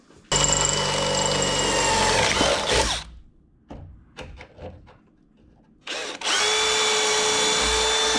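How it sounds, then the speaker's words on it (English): A power drill drives self-cutting bolts during a 6-inch lift install on a GMC Jimmy/Blazer, with two long loud whirring bursts separated by quieter clanks and shuffling. "Let's give these self-starting bolts a shot here."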